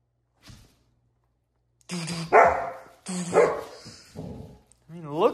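A small dog yips and barks in short excited bursts indoors, close by, mixed in with people's voices talking over it.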